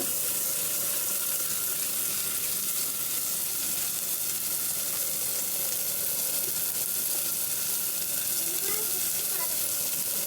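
Tomatoes fry in a pan for a chickpea curry, giving a steady, bright sizzle that runs unbroken throughout.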